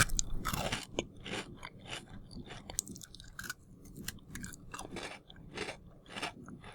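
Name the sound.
chewing crunchy homemade biscuits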